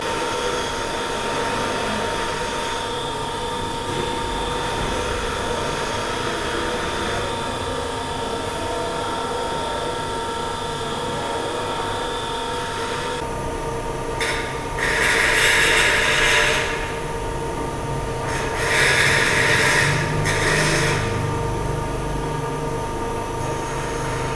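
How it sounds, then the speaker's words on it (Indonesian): Bench grinding machine in a campus machining workshop sharpening a thread-cutting tool bit: a steady motor whine and hum drones throughout, with two louder bursts of bright grinding hiss as the bit is pressed to the wheel near the end. "mahasiswa bisa mempergunakan mesin gerinda yang ada di bengkel ini"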